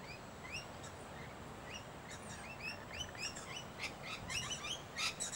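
Birds at a sunny sanctuary give quick, high chirps and tweets, scattered at first and then coming faster and louder toward the end over a soft, constant outdoor hiss.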